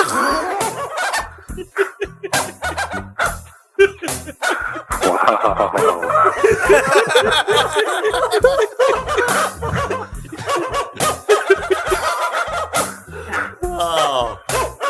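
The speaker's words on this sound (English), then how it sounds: "Excuse me while I play my dog sound effect." Dog barking sound effect plays in a string of rapid barks, mixed with people laughing loudly over it.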